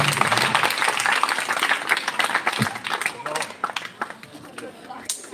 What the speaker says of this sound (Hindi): दादी जी के साहस के लिए एक बार जोरदार तालियां बजा दीजिए आप।